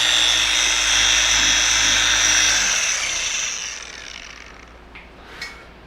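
An aluminum wheel is buffed with rubbing compound by a power polisher, which runs as a loud, steady high-pitched whir for about three seconds and then winds down and fades out, leaving faint handling noise.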